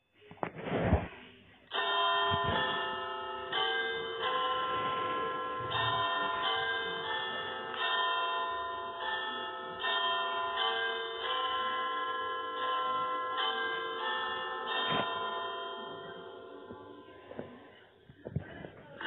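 Big Ben's clock tower bells ring the midday chime in London, slow, resonant strikes with long ringing decay that carry on for the whole stretch, heard from a distance and without voices.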